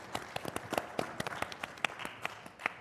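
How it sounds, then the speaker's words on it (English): A small panel-discussion audience gives a speaker a brief, sparse round of applause, with individual claps clearly separate and fairly quiet in a thin room. "A round of applause for Mr."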